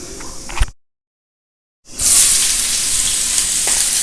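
Urad dal and other ingredients sauté in leftover oil, with a steady loud sizzle filling the second half after a short gap of silence and a few faint clinks at the start.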